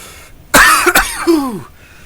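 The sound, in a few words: coughing from a winter cold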